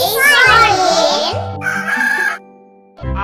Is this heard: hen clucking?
yes